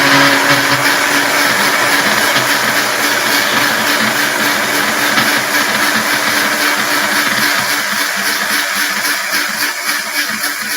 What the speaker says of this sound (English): I'm going to turn on the blender. Watch out for the volume here